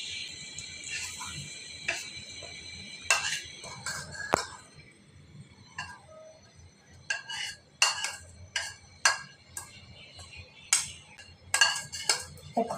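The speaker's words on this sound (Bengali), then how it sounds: "এখন আমরা সুজি পিঠাগুলো ঢেলে নিব, নাড়াচাড়া করে দিব, ছড়িয়ে দিব।" Semolina pitha batter poured into a pan with mustard oil and stirred, giving repeated sharp metallic clinks and scrapes of a utensil against the pan over a low background, no speech.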